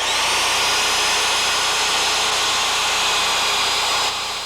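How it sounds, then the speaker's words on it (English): A power drill bores holes through a deck ledger board, a loud steady high-pitched whine running continuously before easing off slightly near the end. "We can mark the holes and pull the ledger off and do the drilling."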